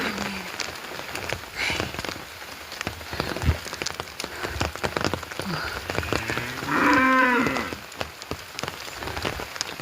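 Steady rain patters on a surface throughout, and partway through a cow moos loudly nearby.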